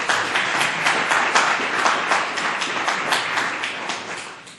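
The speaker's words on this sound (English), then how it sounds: "Applause." Audience applause at a science workshop award ceremony, steady dense clapping from a room of people that holds at an even level throughout and eases slightly at the end.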